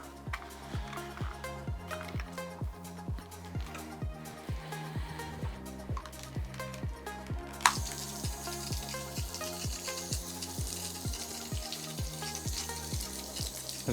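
Garden hose water spraying onto Glaco Compound and Ultra Glaco treated glass, a broad steady hiss that starts about halfway through and runs over a rhythmic, pulsing music bed.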